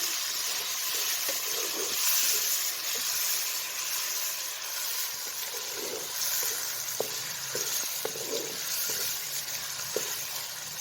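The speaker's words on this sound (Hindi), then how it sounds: "अब हम इसमें टमाटर और सब्ज़ मिर्चें ऐड करेंगे, मिक्स करेंगे अच्छी तरह से।" Tomatoes and green chillies added to browned onions are stirred in a pan for a mixed vegetable sabzi, giving a soft steady sizzle and hiss with occasional spoon scrapes and taps, close and moderately quiet, with no speech.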